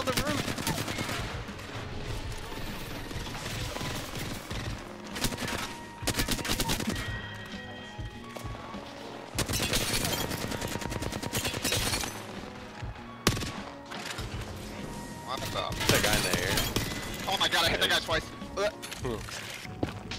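Video game gunfire crackles in repeated bursts and rapid volleys through most of the stretch, loud and close, with voices talking over parts of it.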